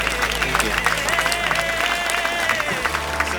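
An audience applauds a singer at a Nepal Idol gala round, with dense, steady clapping and crowd noise over a sustained musical tone throughout.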